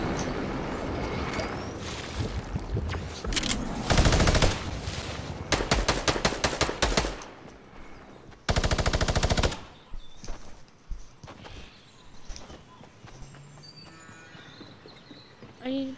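Video-game gunfire sounds in loud automatic bursts, a few rapid sustained volleys and scattered single shots mixed with game sounds, while a player talks at times.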